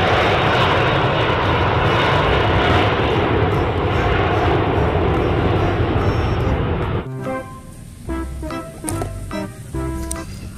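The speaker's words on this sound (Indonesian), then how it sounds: "lihat teman, ada pesawat terbang." A loud, steady toy airplane engine roar fills the first seven seconds, then cuts off and gives way to quieter, uneven mechanical and background sounds.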